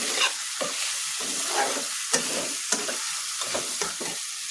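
Chicken frying in a little oil, stirred with a spatula: steady close sizzling broken by repeated sharp scrapes and knocks against the pan.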